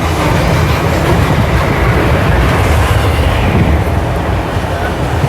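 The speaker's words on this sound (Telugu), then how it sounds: "ఆ పైన బూట్స్ ట్రైన్ వెళ్తుంది చూడండి బ్రిడ్జి పై నుంచి" A goods train rumbling across an overhead bridge, heard from another train passing beneath, a loud, continuous roar of wheels and rail noise without a break.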